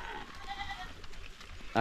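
A goat on a farm bleats once, loud and near, at the very end after a stretch of quiet rustling background.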